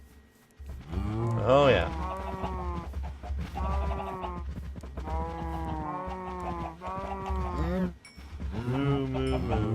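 Minecraft cows moo repeatedly in a farm pen, several drawn-out lowing calls in close succession, with a brief spoken remark from a player.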